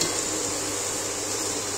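Tomatoes and onions sauté in a pan for pav bhaji, producing a steady close hiss of sizzling fat that stays even across the short moment, with no voices.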